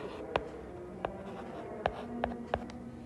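Numbers being written during a math lesson, about five short, distinct taps and strokes spaced irregularly over a quiet room tone.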